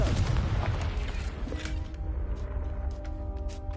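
Confringo fire spell blasting in the Hogwarts Legacy video game, a heavy booming explosion with a deep low rumble that slowly fades under a lingering game ambience.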